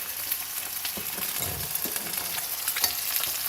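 Butter sizzling in a hot frying pan while cooking steak and eggs, a close, steady crackle and hiss with scattered pops and a few soft scraping stirs.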